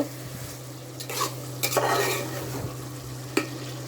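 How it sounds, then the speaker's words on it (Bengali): Beef being stir-fried in a pan on an induction cooktop, a sizzling bed of frying with several spatula scrapes and clinks against the pan, close and fairly loud, no talking. "এই যে মাংস প্রায় কষা কষা হয়ে গেল"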